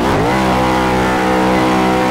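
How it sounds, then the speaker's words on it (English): A loud, sustained engine roar climbs in pitch and then holds at high revs, a steady straining drone of a car being pushed hard without letting up. "let's see if we can get a nice third gear burnout here"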